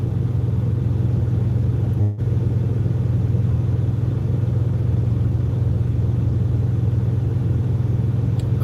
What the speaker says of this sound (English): the exhaust makes my motor loud